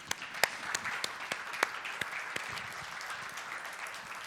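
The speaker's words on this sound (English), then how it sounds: "please give them a round of applause" Audience applause at a talk on choosing an AWP pilot project, a steady patter of many hands clapping that swells briefly at the start and then holds evenly.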